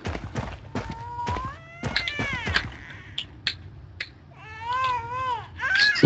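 A baby crying inside the horror video game Paranormal, high wavering wails that rise and fall in bursts over thuds and low background noise, sounding eerie and somewhat distant, with no talking over it.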